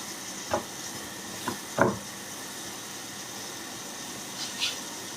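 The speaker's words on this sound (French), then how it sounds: "on va laisser cuire un peu là, les oignons" Onions with saffron cook in a tajine, giving a soft steady sizzle with a few brief clatters and scrapes of a utensil, close and fairly quiet.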